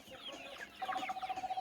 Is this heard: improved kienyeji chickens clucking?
yes